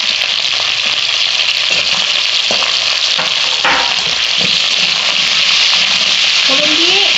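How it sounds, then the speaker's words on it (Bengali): Carrots, beans and other vegetables fry loudly in oil tempered with whole spices, a dense hissing sizzle that holds steady throughout, with a few utensil scrapes as the pieces are turned. "ফোড়ন দিয়ে এই সবজিগুলো আমি ভেজে নিচ্ছি"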